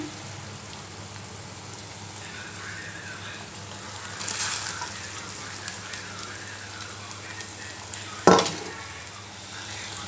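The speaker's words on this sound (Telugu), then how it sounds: "ఉల్లిగడ్డ ముక్కలు వేయనియండి ఇప్పుడు టమాటా ముక్కలు వేసుకుందాం" Onion and tomato pieces frying in a pan for egg curry, making a steady rain-like sizzle with a louder burst of crackling midway and a sharp utensil knock near the end, close by and with no talking.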